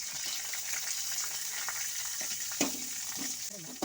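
Onions sizzle and fry steadily in a pan for a Kannada home-cooked sprouted horse gram stir-fry, a continuous close crackle with a few louder pops and utensil touches near the end.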